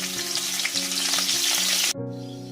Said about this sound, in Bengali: এবার আমি ফুলকপিটা ভাজা করে নেব।